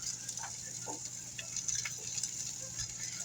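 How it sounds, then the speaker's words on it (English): Soft, continuous sizzle of a shrimp omelette frying in a pan, with a faint hiss and light crackles and ticks; no voices. "There's the sizzle. I love sizzle."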